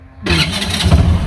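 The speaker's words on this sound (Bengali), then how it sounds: "স্টার্ট হয়ে গেছে সেলফে" A small three-wheeler Mishuk auto-rickshaw engine self-starts, cranking and catching at once, settling into a loud, steady running rumble close by.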